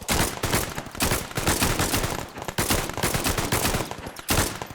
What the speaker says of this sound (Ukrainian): Стрілянина якась.